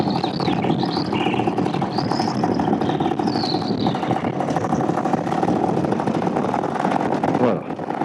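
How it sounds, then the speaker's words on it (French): A paramotor engine idling in flight while the wing carries the pilot, heard as a steady, even mechanical drone blended with constant rushing wind. "moteur au ralenti, donc voilà, c'est la voile qui nous porte là"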